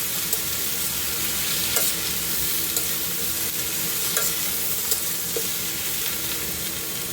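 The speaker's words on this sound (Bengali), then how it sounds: "এবার এগুলো ভাজা ভাজা হবে" Steady crackling sizzle of eggplant frying in a pan, with a few soft scrapes from stirring. No one speaks.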